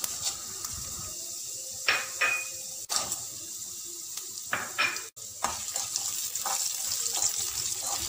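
Urad dal, chana dal, peanuts and cashews hit hot oil for lemon rice, producing a steady close sizzle with clinks and scraping from stirring throughout, no talk.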